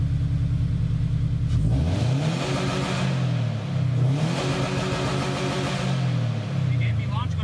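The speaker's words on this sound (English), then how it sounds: "Alright, so now I'm gonna rev it up." A Subaru BRZ with UEL headers and an OFT tune revs up hard and close, the engine note climbing and falling in two big swells over a rumbling idle, with a voice briefly heard over it.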